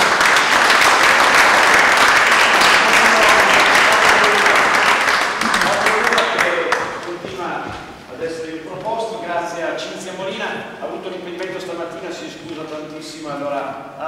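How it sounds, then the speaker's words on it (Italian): An audience applauds after a poetry reading, loud dense clapping for several seconds that fades, followed by a person speaking. "Un applauso."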